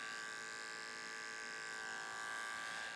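Electric hair clippers buzz in a steady, unbroken drone while tapering a men's short haircut, a faint close hum with no speech over it.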